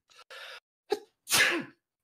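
A single loud, close human sneeze comes after a short sharp intake of breath, with a brief murmur of voice just before it.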